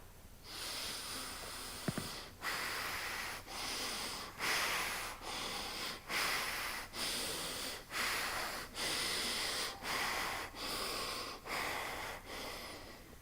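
Deep, slow meditative breaths, each a long noisy inhale or exhale, about a dozen in an even rhythm, close and soft with no talking.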